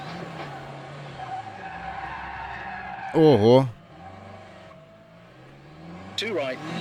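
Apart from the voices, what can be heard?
rally car skidding and revving in Assetto Corsa Rally video game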